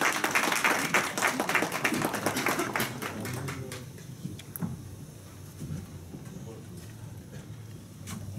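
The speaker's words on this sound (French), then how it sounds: "Monsieur Kiengama, on l'applaudit à nouveau, merci." A crowd at a Republican banquet in Paris applauds. Dense clapping for about three seconds thins to scattered claps and murmuring voices, and the room settles quieter.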